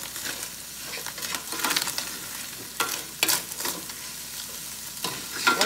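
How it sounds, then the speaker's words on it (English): Seasoned meat fries in a pan for Texas spaghetti as a utensil stirs it, giving close, repeated scraping strokes in uneven bursts over a continuous sizzle. "I'm going to stir that up in here a little bit."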